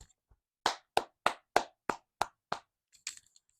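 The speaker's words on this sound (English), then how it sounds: "Let's clap it up." About eight sharp hand claps in a quick, even rhythm, followed by a few softer scattered claps, close and clear with no talking.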